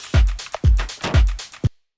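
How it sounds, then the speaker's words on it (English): Open hi-hat sample used for textured electronic drums, pitched down, played as a short sequence of hits with deep low thumps, cutting off abruptly to silence. "All it is an open hi-hat sample."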